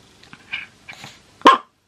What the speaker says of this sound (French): Ce coup-ci on rigole plus, on lâche les chiens.